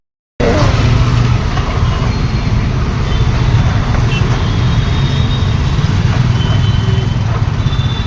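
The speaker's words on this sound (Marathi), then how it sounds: "मुलुंड हायवे बनत आहे त्यामुळे फुल ट्रॅफिक जाम आहे" Highway traffic jammed near highway construction in Mulund, heard as a loud steady rumble of engines and road noise close by, with no clear talk.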